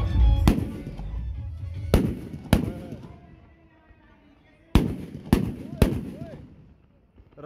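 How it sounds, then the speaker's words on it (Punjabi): Firecrackers explode at a Dussehra fair in Pathankot, loud sharp bangs arriving in two clusters with quieter gaps, fading crowd noise between the blasts. "ਪਟਾਕੇ ਚੱਲਣ ਦੀ ਤਿਆਰੀ ਹੈ"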